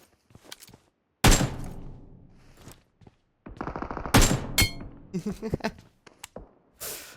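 Enemy gunfire in PUBG Mobile comes in several sharp bursts of automatic fire spread across the clip, loud and mid-distance, with brief quiet gaps between volleys and no talk.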